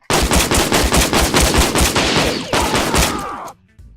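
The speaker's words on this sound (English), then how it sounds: "Let's swap to the assault rifle." An assault rifle in a video game fires in a fast, sustained automatic burst for about three and a half seconds, loud and punchy. It ends abruptly with a brief tail.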